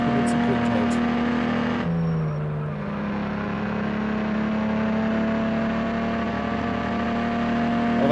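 Engine drone of a city bus in the Switch driving game City Bus Driving Simulator, a steady low hum with a shift in pitch early on, running throughout under someone talking.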